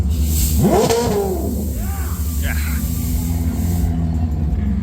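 A Koenigsegg Jesko arrives with its engine revving, a rising and falling rev sweep near the start over a steady low rumble, then settling into a continuous drone with a brief crowd murmur in the background.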